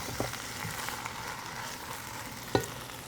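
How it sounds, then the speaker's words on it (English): Tortellini and vegetables sizzling in a single pan, a soft steady frying hiss with a couple of brief clinks of a utensil stirring. "Just like sizzle."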